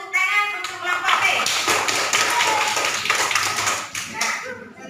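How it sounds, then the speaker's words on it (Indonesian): A classroom group claps and taps in a quick, ragged round of applause for a discussion group, dense and close, fading out near the end. "Tepuk tangan untuk kelompok B"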